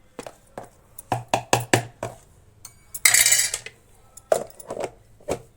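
A spoon clinks and scrapes in a container while pickle is mixed with turmeric powder, sharp irregular taps and knocks, then a rattling snap as the lid goes on, close and alone.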